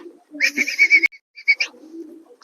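A pigeon coos nearby in a few soft, throaty pulses, followed by a brief second burst after a short pause.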